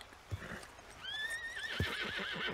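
A spooked horse in the Red Dead Redemption 2 video game lets out a sharp, quavering whinny near the middle, with a couple of hoof thuds around it and no talk.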